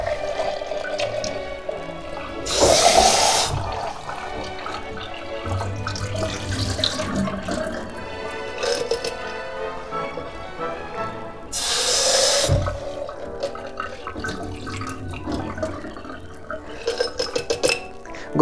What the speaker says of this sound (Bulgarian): Разбъркваме шипките. И изливаме водата. Повтаряме това действие няколко пъти.